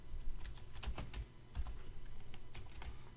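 Close, quiet typing on a computer keyboard: a quick irregular run of light key clicks and taps, heard alone without talk.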